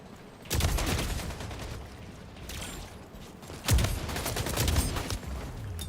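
Shotguns fire in a first-person shooter video game, with two bursts of loud, booming blasts and rattling impacts separated by a calmer stretch of game noise.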